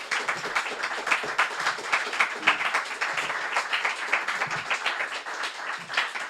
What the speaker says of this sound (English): I hope you will all join me in a round of applause for our speaker this evening